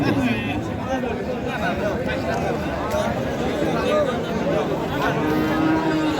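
A cow moos over a loud, constant crowd babble at a busy cattle market, with voices chattering all around.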